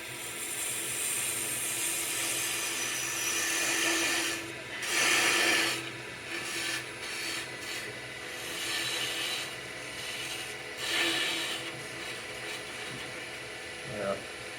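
Rasping, scraping strokes of a carving tool working wood to shape a potato masher, coming in irregular bursts close to the microphone with a faint mechanical hum beneath.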